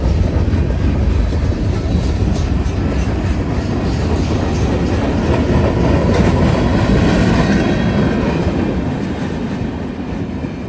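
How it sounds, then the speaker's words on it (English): A BNSF freight train with two locomotives climbs a hill on the Oregon Trunk line in central Oregon, giving a loud, steady, close rumble of engines and rolling wagons that holds for the whole stretch and eases slightly at the end. "it only takes 2 locomotives to pull the equivalent of over 100 semi-truck loads up the hill"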